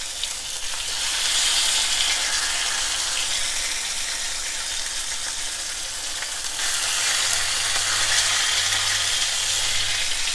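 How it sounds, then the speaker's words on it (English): Pork chops searing in olive oil in a hot skillet, with a loud, steady hiss and sputter throughout that swells slightly partway in, close up and with no voices. "place your pork chops in the skillet. And you want this to be pretty hot because you want them to sear"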